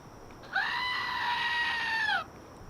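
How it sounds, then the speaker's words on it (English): A goat lets out one long, loud human-like scream lasting under two seconds, wavering slightly before breaking off, with quiet before and after. "screaming goats"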